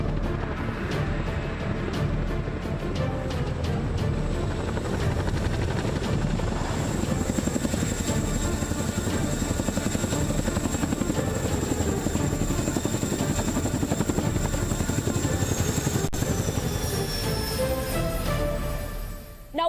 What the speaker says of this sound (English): we just saw the Chinook helicopter land right here